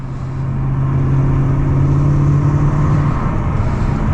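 Loud, steady engine drone from a 550 hp Mercedes CLS 55 AMG accelerating while driving, heard from inside the cabin, with a deep rumble and a sustained tone climbing slightly before easing off.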